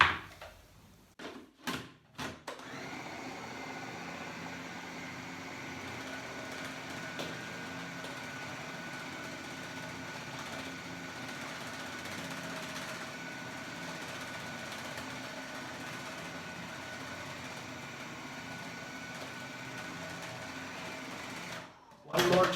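A food processor blends frozen bananas and walnuts into ice cream, a steady loud whirring motor drone that runs unbroken for about twenty seconds after a few clunks at the start and stops abruptly near the end.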